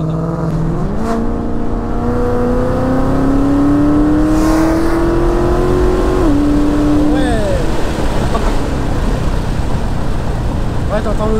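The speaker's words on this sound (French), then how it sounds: "Elle donne des coups de gaz en rétrograde." A Ford Mustang 5.0 V8 revs loudly, its pitch climbing steadily then dropping sharply as it blips during a downshift, continuous and close.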